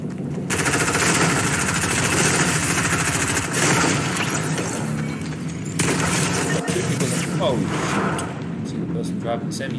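Gunfire rattles in a solo Fortnite match in Season 8, rapid bursts and repeated shots layered over game noise and a player talking throughout, loud and close with brief lulls between volleys.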